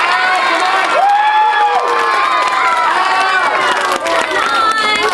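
A children's audience cheers and shouts together at a summer reading event in a library, a loud, continuous crowd roar with high excited voices overlapping throughout.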